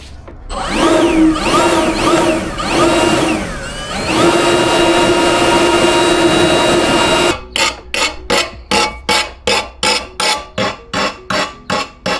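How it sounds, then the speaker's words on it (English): A leaf blower roars steadily at close range while blowing out a disassembled truck exhaust during an MBRP turn-down exhaust install on a Toyota TRD Pro, then switches to a rapid series of short, even bursts. "I don't have shop air here, so I'm gonna use a leaf blower"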